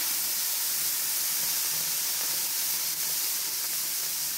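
Smash burgers steaming under cover on a Char-Griller Premium flat iron griddle, a steady, even hiss that holds unbroken throughout with no voices.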